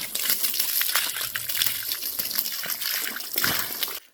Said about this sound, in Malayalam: ഇപ്പോഴതുവഴി വെള്ളം ഒഴുകുന്നു